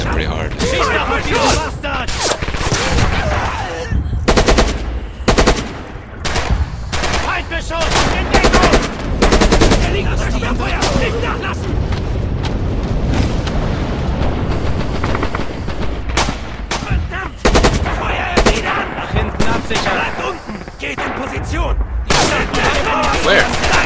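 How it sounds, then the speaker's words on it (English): Battle in the World War II shooter Rising Storm/Red Orchestra 2 on a winter forest map: dense machine-gun bursts, rifle shots and booming artillery fire in rapid, loud volleys, with a voice talking over the chaos. "our artillery is suppressing them pretty hard"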